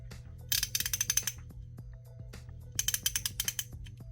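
Rapid clicking of a Kobalt Pro 90-tooth quick-release ratchet, two fast bursts of fine, dense ratcheting clicks close to the mic, separated by a pause, with no voices.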